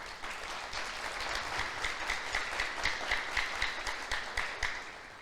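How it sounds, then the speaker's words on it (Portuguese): A church congregation applauds steadily for about five seconds, a dense, even wash of many hands clapping with small rhythmic surges and no voices rising above it. "Aplauda o Senhor por isso."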